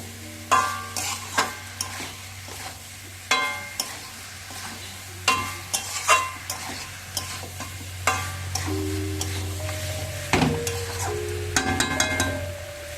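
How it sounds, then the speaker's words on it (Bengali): Vegetables sauté with spices in a pan, a low steady sizzle broken by repeated sharp clinks and scrapes of a spoon stirring against the metal, close and without talk. "সবজিগুলো দিয়ে মশলার সাথে কিছুক্ষণ কষিয়ে নিতে হবে মোটামুটি দুই থেকে তিন মিনিট"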